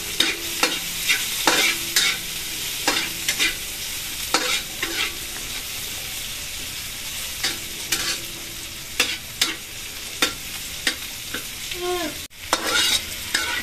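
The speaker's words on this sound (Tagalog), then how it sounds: "Ito po ginisa po natin sa pinagprituhan po natin ng tokwa." Bean sprouts with tofu being stirred and sautéed in leftover frying oil, a soft steady sizzle broken by repeated sharp scrapes and clinks of a spatula against the pan.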